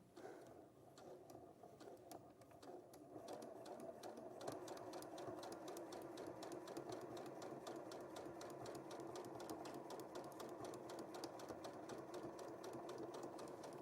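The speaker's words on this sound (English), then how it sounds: "There's something very nice about the rhythmic sound of a sewing machine, isn't there?" A sewing machine stitches quilting fabric in a steady, rapid mechanical rhythm, close and even, starting a little softer before settling into a continuous run with no talking.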